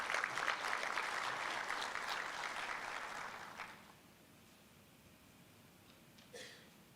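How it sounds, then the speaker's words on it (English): Conference audience applauding to welcome a speaker, a full hall of steady clapping that fades out after about four seconds into quiet room tone, followed by a single faint knock. "Let's give Mr. Mashele a good round of applause"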